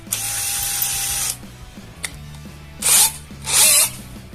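A Kamolee 10mm cordless brushless drill straining under heavy load lets out one long, loud whine lasting over a second, then two short, sharp bursts after a pause.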